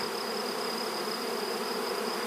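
A migrating swarm of honey bees, tens of thousands of workers and drones with their queen, gives off a steady, dense buzzing drone that holds unbroken and fairly quiet throughout, with no voices.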